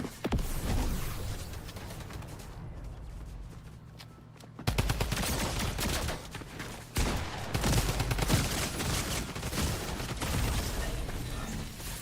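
Gunfire in the video game Fortnite: loud, dense volleys of rapid shots that rattle almost continuously, easing briefly in the middle before bursting back in heavy, overlapping bursts.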